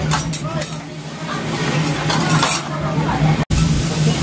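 Food sizzles steadily on a teppanyaki hot plate in a restaurant, with spatulas scraping and clinking against the metal and people chatting over the continuous fry noise.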